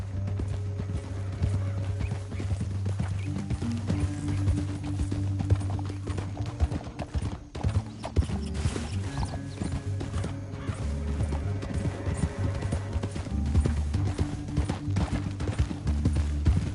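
Horses gallop steadily through a canyon in Red Dead Redemption 2, with a rapid clip-clop of hooves and occasional whinnies under background game music.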